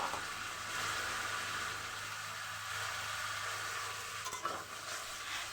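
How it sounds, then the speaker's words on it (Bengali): Eggplant pieces sizzle in a hot pan for a dried kachki fish curry, making a dense continuous hiss, and a brief clatter of stirring comes near the end. "তো বেগুনগুলো দিয়ে আমি এখন এই তো ভালোভাবে নাড়াচাড়া করে নিচ্ছি"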